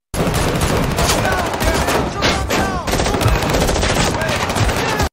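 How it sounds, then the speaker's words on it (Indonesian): Loud, dense bursts of gunfire fill a film shootout between mafia members and police. The rapid automatic shots run almost without a break, with a few louder cracks standing out. "mereka tiba-tiba dikepung oleh polisi dan terjadi baku tembak."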